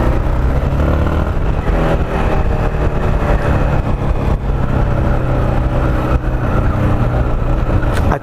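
A motorcycle engine drones loudly and steadily while riding at night, with a constant low rumble and rushing wind noise and no pauses.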